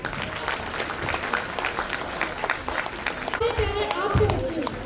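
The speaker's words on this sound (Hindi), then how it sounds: "Please give a big round of applause for our students" Audience applause fills a school hall after students perform a skit on time management, dense steady clapping with a voice speaking over it near the end.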